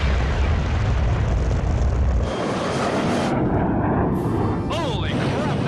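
A rocket ship fires its engine after being dropped from a mothership at 50,000 feet, a loud, rumbling roar that thins into a hissing, whistling tail as it recedes.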